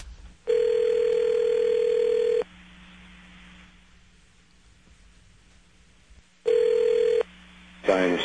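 A telephone dial tone sounds loudly after a hang-up, a steady buzzing tone for about two seconds, then quiet line hiss, then another short burst of tone followed by a few rapid beeps.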